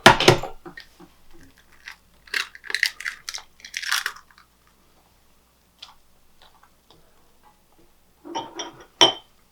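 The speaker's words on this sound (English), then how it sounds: "I'm going to add the brown sugar, the spices, the 2 eggs" Brown sugar, spices and two eggs going into a mixing bowl for hot cross buns: scattered close clinks, taps and light crunchy pours in short bursts separated by quiet pauses, no talk.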